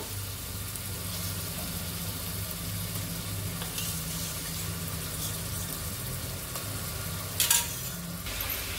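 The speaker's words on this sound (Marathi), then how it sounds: "मटण घातल्यानंतर सगळं व्यवस्थित असं परतून घ्यायचं आपल्याला।" Pre-cooked mutton being stirred and sautéed in a pan for biryani, a constant soft sizzle with faint scraping and a brief clink of a utensil near the end.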